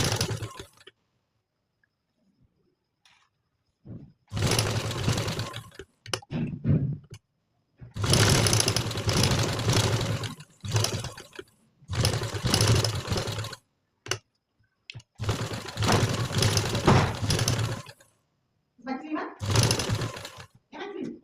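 An electric sewing machine stitches organza fabric in loud, steady whirring runs of a few seconds each, broken by short pauses, with a person talking in between.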